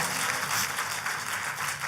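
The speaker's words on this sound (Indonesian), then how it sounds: "Kalau mau tepuk tangannya yang lebih dahsyat lagi buat Yesus Tuhan kita" A church congregation claps for Jesus during a sermon, giving a brief, dense, steady round of applause filling the room.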